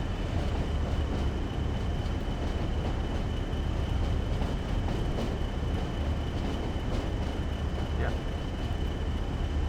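A Class 40 diesel locomotive in a train simulator game, running along the West Coast Main Line in fog: a steady, loud engine drone and rail rumble continue throughout with no break.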